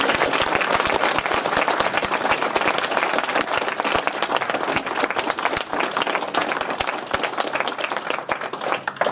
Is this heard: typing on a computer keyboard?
no